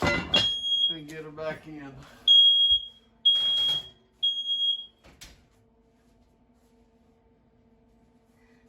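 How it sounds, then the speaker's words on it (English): A household smoke alarm in a kitchen where sourdough bread is baking gives several loud shrill beeps in short bursts, mixed with a person talking close by before fading to quiet room hum. "our alarm tends to go off quite a bit"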